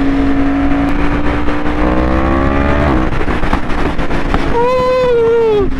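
A Yamaha R1 motorcycle on a night ride revs its engine, pitch climbing in rising sweeps before dropping, then a sharp high rev near the end, loud and close over steady wind rush.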